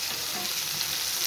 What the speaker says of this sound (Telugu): గంగవాయల కూర నీట్గా కడుక్కొని సన్నగా తరిగి పెట్టుకొని గంగవాయల కూర వేసుకుంటున్నాను